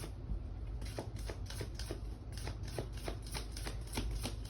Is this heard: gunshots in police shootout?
no